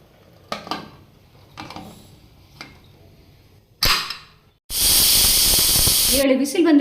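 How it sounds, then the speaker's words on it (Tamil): A pressure cooker cooking pearl millet pongal lets off several sharp steam bursts, then a loud sustained hissing whistle that cuts off abruptly, followed by brief rattling and a voice speaking. "7 விசில் வந்து நிறுத்தி இருக்குதுங்க."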